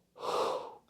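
A single audible exhale during a beginner Pilates mat exercise: one smooth, breathy outward breath lasting under a second, close and soft with no talking.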